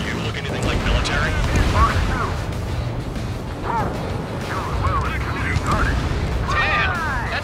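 Rumbling explosions and booms from the combat flight video game Ace Combat 7: Skies Unknown, loud and continuous, layered with jet-like roars and voices talking over the blasts.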